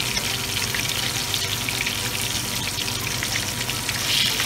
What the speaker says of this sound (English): Now, I'm doing a pan fry, but actually, I usually do a deep fry.